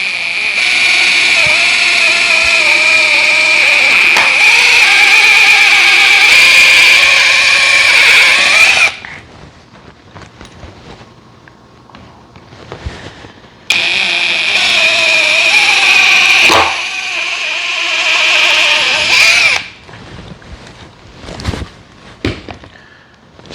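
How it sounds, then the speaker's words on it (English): A power drill whines steadily for several seconds, stops, then runs again in a second long burst, with clicks and handling noises between, drilling holes for a flush mount installation. "And of course, make sure you drill straight."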